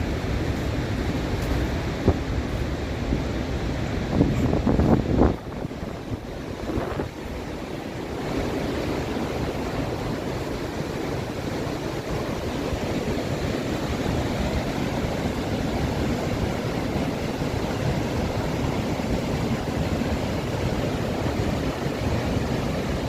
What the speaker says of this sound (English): Yeah, raging waterfalls.